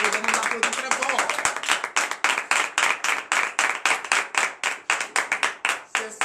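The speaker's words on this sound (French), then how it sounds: "Et je vous demande d'applaudir très fort." A congregation claps loudly and steadily in quick, even rhythm at a Friday morning prayer service in Benin, with voices mixed in beneath the claps.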